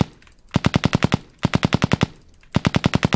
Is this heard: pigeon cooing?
no